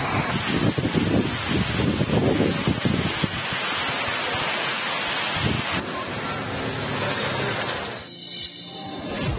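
Heavy rain pours steadily during a thunderstorm with gusting wind in Yadgir, Karnataka, a dense roaring wash of noise with rumbling low surges, continuous and loud with no voices.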